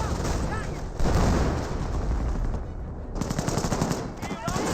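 Rapid machine gun fire from Bren guns and an MG42 suppressing Grenadiers in Company of Heroes, loud and continuous bursts layered with other gunfire and distant blasts, with no talk over it.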